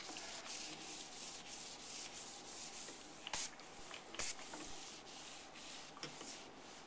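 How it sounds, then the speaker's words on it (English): Sealer being worked onto a granite countertop, soft continuous rubbing and wiping strokes with a couple of sharper knocks, faint and close with no talk. "just continue applying the sealer"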